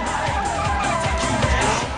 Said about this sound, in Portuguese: É uma derrapagem perfeita.